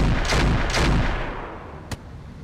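Mech weapons firing in the Roguetech/Battletech video game: loud, booming volleys under a dense roar, fading off, then a single sharp shot near the end.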